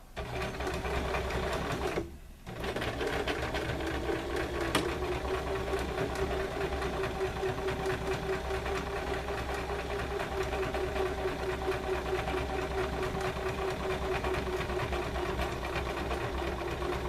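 A sewing machine runs steadily while stitching a tote bag, giving a continuous even mechanical whir with a rapid needle rhythm that continues almost without break after a very short pause near the start.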